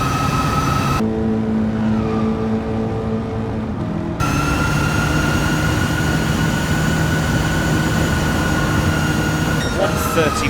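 High-powered car in Gran Turismo 7 driven flat out: a loud, sustained engine roar with rising and falling harmonic pitches as it shifts through gears, a brief change in tone partway through, continuous over several seconds.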